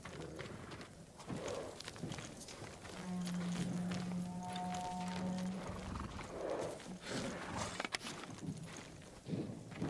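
Samurai horses' hooves clip-clop at a steady walking pace in Ghost of Tsushima, layered over a low droning tone and ambient background.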